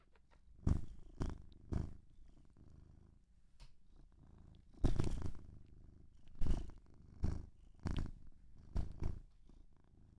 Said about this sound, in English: Cat purrs are so nice.